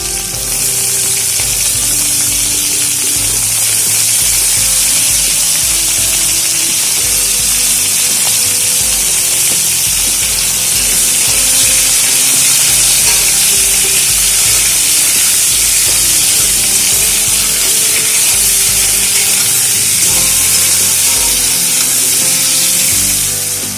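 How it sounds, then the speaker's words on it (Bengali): Potato and taro pieces fry in hot oil, giving a loud, steady, continuous sizzle that lasts throughout with no one speaking. "সবার প্রথমে আলু আর গাটি কচুগুলোকে একটু ভেজে নেব"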